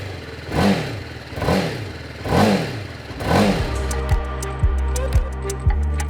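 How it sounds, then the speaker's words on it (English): 2020 TVS Apache RR310 BS6 motorcycle with its 312cc single-cylinder engine revved through the exhaust: four deep throttle blips rise and fall close by, then a settled idle with a few sharp pops. "the sound of that exhaust, well, it's gotten deeper. Take a listen."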